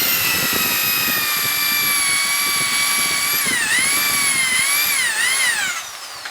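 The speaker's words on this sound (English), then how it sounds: "Drill the hole down just a bit below that" A power drill boring a hole into a surfboard, a loud high whine that holds steady, then dips and surges in pitch as the bit bites, ending abruptly with no talk.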